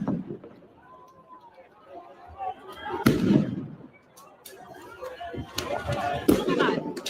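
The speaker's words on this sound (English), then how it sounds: "Nice fireworks back." Fireworks fired during a protest riot burst in a few loud, sharp bangs, the biggest near the middle and end, over a background of shouting, crowd chatter and movement.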